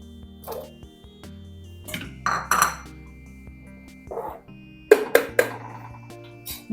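Drumstick (moringa) pieces drop into a pot of fish curry, making several sharp clattering knocks close by, with a quick cluster of impacts near the end.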